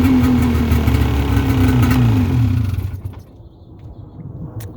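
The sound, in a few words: Ski-Doo two-stroke snowmobile engine revving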